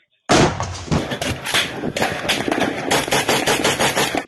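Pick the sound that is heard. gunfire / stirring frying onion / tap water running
gunfire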